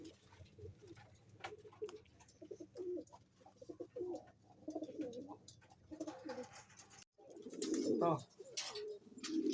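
Pigeons in a fancier's loft coo repeatedly at close range, low throaty calls overlapping with someone talking in Filipino and some rustling and patter.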